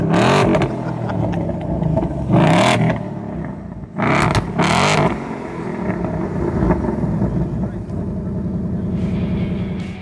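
A 2026 Ford Mustang FX with a 6-speed manual revs in several sharp bursts, loud and close, between stretches of steady engine hum while someone speaks over parts of it.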